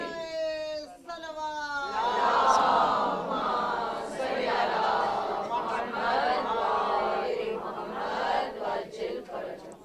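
A crowd at a Majlis-e-Aza mourning gathering chants the religious slogan Ya Ali in unison, the massed voices rising and falling in a steady rhythm at moderate volume.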